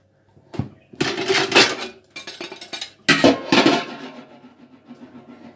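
Cooked red plum compote is strained, with clattering and rattling bursts of a metal strainer and pot, close and fairly loud, separated by short quieter gaps.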